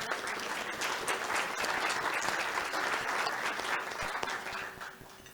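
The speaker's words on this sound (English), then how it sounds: "Round of applause for Max." Audience at a Rotary club meeting applauding, a dense steady round of clapping from a roomful of people that holds for several seconds and then tapers off.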